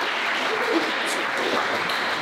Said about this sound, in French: on les applaudit pour relancer le film